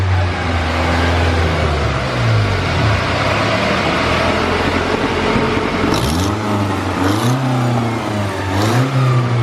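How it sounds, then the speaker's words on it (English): A Honda Civic engine revs up and down repeatedly, loud and close, with a raspy, ticking exhaust-leak note rising on each throttle blip. "I hear an exhaust leak, I think."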